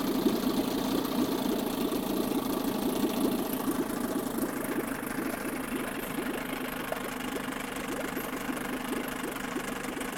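A 1976 Johnson 9.9 HP outboard motor idling low, a steady close rumble with a fast even putter and slight knocking that holds unbroken throughout, the pitch dipping a little as the idle is brought down.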